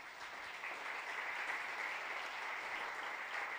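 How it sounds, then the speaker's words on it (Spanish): A church congregation applauding, a steady wash of many hands clapping that sounds somewhat distant and fairly quiet and continues evenly throughout. "Dele un aplauso al Señor."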